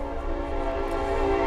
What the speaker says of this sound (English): There's the crazy train.